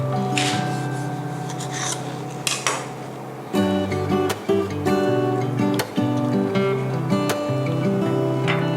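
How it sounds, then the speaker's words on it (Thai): Nam prik pla too, a Thai mackerel chili paste, pounded in a mortar: repeated dull thuds and scraping knocks of the pestle in an uneven rhythm, close and fairly loud, with no talking. "แล้วก็โขลกน้ำพริกนะคะ ให้ผสมเข้ากันดี"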